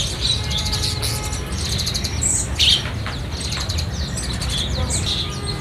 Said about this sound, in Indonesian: kalau ini untuk stok jalak suren yang sudah dewasa